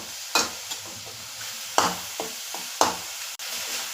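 Bottle gourd being stirred in ghee in a frying pan: steady soft sizzling with a series of scraping, clacking strokes of the spoon against the pan at an uneven rhythm, close and fairly quiet.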